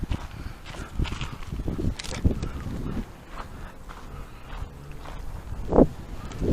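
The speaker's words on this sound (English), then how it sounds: "we got a pretty good wind coming in" Wind rushes outdoors near an asphalt flying field, buffeting the microphone as a steady, moderately loud rumble with gusty swells and occasional thumps.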